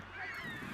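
Hungry waterfowl being fed in a city park give honking, quacking calls that carry over steady outdoor background noise, fairly faint and continuous, with no voices.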